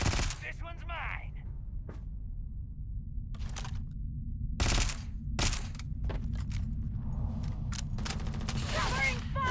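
Heavy gunfire in a multiplayer shooter match, bursts of sharp, loud shots and sustained volleys over a low rumble, with scattered individual cracks and clicking mechanisms between them.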